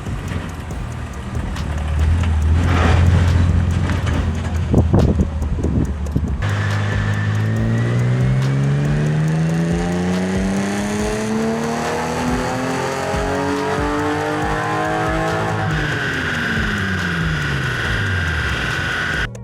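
An upgraded BMW E36 with an M52 engine revs hard on a dyno, pitch climbing steadily through a long wide-open pull and then dropping off as the engine winds down, loud and close.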